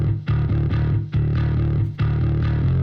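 A distorted rock mix passes through a Decapitator saturation plugin, with dense driven guitars and chugging low-end chords in a steady rhythm, loud and continuous with brief gaps between phrases.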